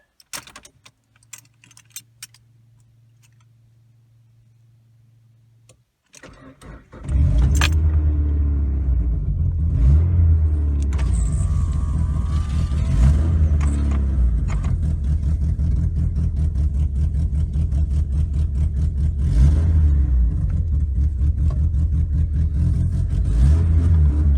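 A Nissan N13 Sunny Pulsar engine cranks and fires after a few quiet seconds with faint clinks, then settles into a loud, steady running rumble close by.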